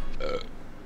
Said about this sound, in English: Just belches in his face.